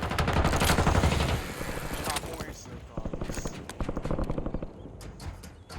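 Gunfire in a Ghost Recon video game, a busy mix of sharp shots and bursts that comes and goes at close range under constant game noise, with a voice speaking through it.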